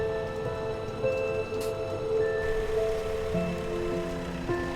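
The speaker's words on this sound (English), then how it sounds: "We've got to get through this torrent of water." Flood water in a farming video game surges in a steady rushing torrent, with layered tonal hums from a game engine or machinery running beneath it.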